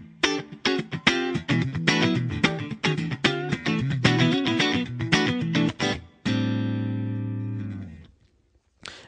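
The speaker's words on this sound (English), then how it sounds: "to get our out-of-phase quacky Strat sound" Bright, hollow-sounding electric guitar chords from a Stratocaster in the out-of-phase pickup position, strummed rhythmically, closing with one sustained chord that rings out and fades to silence.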